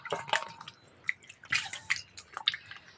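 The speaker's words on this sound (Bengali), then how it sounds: "খোসাটা ছাই নিয়েছি এবার জলে ধুয়ে নেবো" Peeled, cut ridge gourd is washed in water nearby, making soft irregular splashes and drips with a few wet squishy handling sounds, quiet and without any voices.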